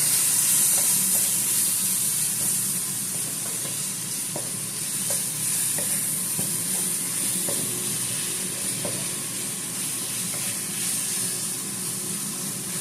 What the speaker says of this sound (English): Let me stir it up.